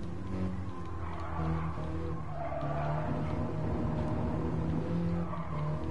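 A Mini Cooper S races on the Nürburgring Nordschleife, its engine droning and tires squealing continuously through corners, heard loud and close from onboard over several seconds.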